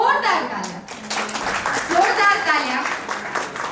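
Guests at a baby shower clap in brief scattered applause while people keep talking and a voice is heard.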